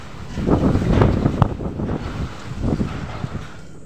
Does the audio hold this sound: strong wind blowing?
yes